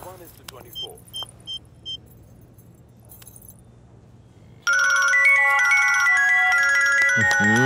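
A phone ringtone bursts in loud and sustained after some quiet background noise with light jangling clicks, ringing continuously to the end.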